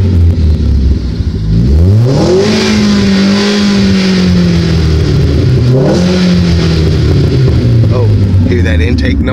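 Heard from inside the cabin, a car engine revs hard twice, each pull sweeping up and settling back to a loud idle-like drone, with a little talk near the end.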